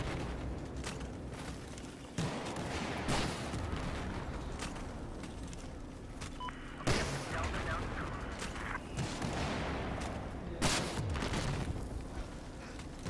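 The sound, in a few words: gunfire in video game Battlefield 4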